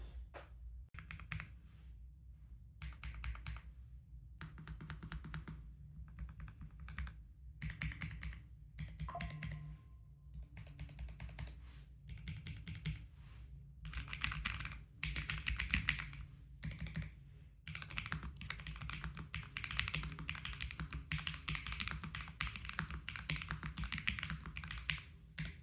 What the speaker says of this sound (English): Let's try some typing sound now.